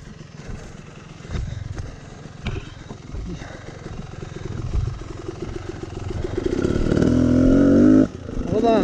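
A motorcycle engine runs and revs on a rough off-road trail, rising to a loud, sustained rev near the end before cutting off abruptly, with people talking over it throughout.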